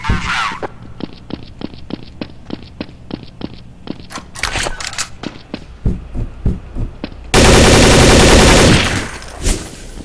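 Counter-Strike: Source gunfire: a steady string of evenly spaced single rifle shots, then louder clustered bursts, ending in a long harsh roar of sustained noise, close and loud.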